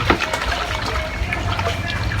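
Soap being stirred into water for homemade dishwashing liquid, a steady wet swishing and sloshing that carries on for the whole short stretch at moderate loudness with no talk.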